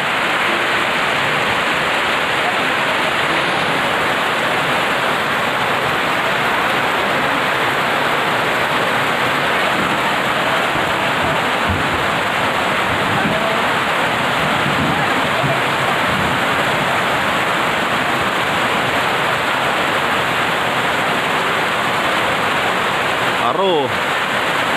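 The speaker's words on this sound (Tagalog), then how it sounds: "ang lakas ang ulan" Heavy rain pours steadily during an outdoor lechon roast, a dense broadband hiss lasting throughout, loud and close, with people talking under the downpour.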